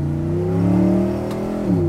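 A 1955 Chevrolet 150 with a Kilduff Lightning Rod shifter accelerates at half throttle, its loud engine droning steadily with a deep harmonic growl that dips slightly near the end, heard close up with no talking.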